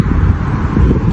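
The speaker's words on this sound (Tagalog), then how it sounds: "Yan, hangin dito." Wind rumbles and buffets against the microphone in a steady low roar.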